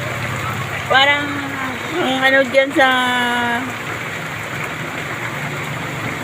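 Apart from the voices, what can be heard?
heavy rain during road trip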